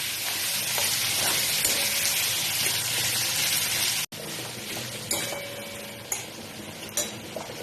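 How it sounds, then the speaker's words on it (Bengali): A tomato sizzles in hot oil in a pan while chicken curry is prepared, giving a steady broadband frying hiss with small pops and a brief break midway. No one speaks. "এবার এর মধ্যে একটা টমেটো দিয়ে দিলাম, দিয়ে একটু ভেজে নিচ্ছি।"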